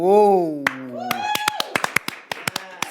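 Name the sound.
slow hand clapping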